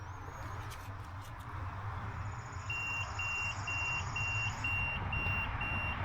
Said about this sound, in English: So the oil sensor actually does beep.